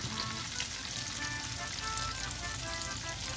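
Freshly washed fava beans frying in a soffritto, giving a dense, steady sizzle that crackles evenly and close throughout, with no voices.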